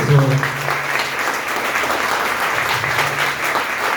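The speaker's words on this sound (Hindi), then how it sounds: "बड़ी तालियां हमारे तबस्सुम मैम के लिए बजाइए" An audience at a school Librarian Day event claps for the school librarian, steady applause with a voice briefly audible at the start and again partway through.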